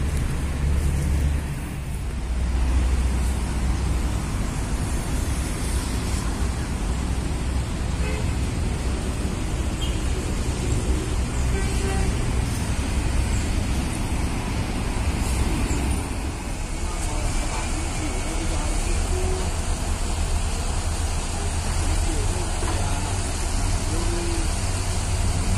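Busy ambience inside the Kampung Rambutan bus terminal in Jakarta, with a constant wash of idling bus and traffic engine noise and scattered background voices throughout.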